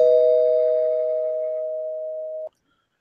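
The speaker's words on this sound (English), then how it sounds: "So I'm going to ring the bell here because I did not know this was in the works." A single bell tone is struck once on a podcast and rings out steadily with a slow decay before cutting off abruptly, loud and alone with no talk over it.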